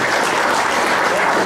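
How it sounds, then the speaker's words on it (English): An audience at an outdoor evening concert in Lake Accotink Park, Springfield, Virginia, claps in a dense, loud burst of applause, steady throughout the short moment. "So let's give a round of applause for them."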